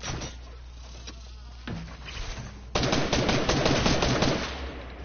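Video game gunfire: scattered shots at first, then a dense rapid burst of automatic fire that carries loud and continuous to the end.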